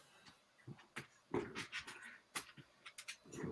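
Dogs whimpering and panting in a home, with short breathy pants and whines in uneven bursts, fairly faint and close, no talk over them.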